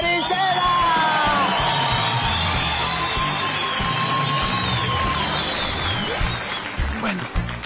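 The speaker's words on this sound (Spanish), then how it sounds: "¡Aplausos para Chile Marisela!" Studio audience bursting into loud applause, whoops and cheers for a comedian on a Colombian comedy show, sustained over several seconds before tapering off slightly.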